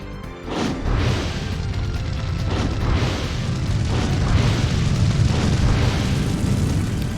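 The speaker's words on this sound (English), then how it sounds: "I'm going to have her be the one to consume gushing magma" The Gushing Magma fire spell in The Legend of Dragoon erupts into a dense, continuous roaring rumble, with a series of repeated booming bursts rolling through for several seconds.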